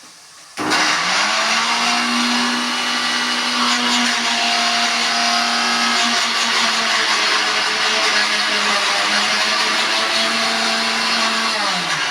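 An electric mixer grinder grinds chicken masala, kicking in abruptly and running at a loud, steady whine for about eleven seconds before spinning down at the end.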